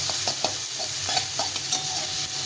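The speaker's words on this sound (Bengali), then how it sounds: "এটার সঙ্গে ভালো করে একটু নেড়ে চেড়ে নিতে হবে" Potatoes and okra frying with spices are stirred in a pan, a close, steady sizzle broken by light scraping strokes at an irregular pace; no voices.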